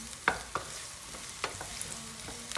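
Garlic and onion sautéing together in hot oil for a kare-kare sauce, a steady soft broadband sizzle with several sharp clinks and scrapes from stirring at irregular intervals, close and fairly quiet, no talking.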